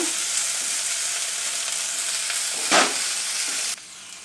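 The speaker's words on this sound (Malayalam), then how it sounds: "ഇനി നമുക്ക് അല്പം ഇഞ്ചി വെളുത്തുള്ളി പേസ്റ്റ് ഇതിലേക്ക് ചേർത്ത് കൊടുക്കാം ഇത് നന്നായിട്ട് ഇളക്കി യോജിപ്പിക്കുക" Pieces of goat head fry in a pan as ginger garlic paste is stirred in, a loud steady sizzle with one brief scrape of the spoon before it quiets abruptly, with no voices.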